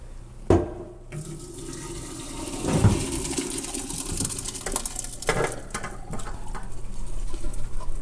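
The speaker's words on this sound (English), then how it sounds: "The hash brown potatoes are now ready to be drained. They're fork tender, so I'm going to drain those." Boiled, fork-tender hash brown potatoes being drained, with hot water pouring and splashing steadily into a sink for several seconds after a sharp knock of the pot.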